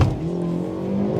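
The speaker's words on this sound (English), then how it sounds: "that wheel hop at launch, it's really not a pleasant experience" A 2024 Hyundai Elantra N launches from a stop with wheel hop, its engine a loud, close, throbbing low rumble held briefly under load.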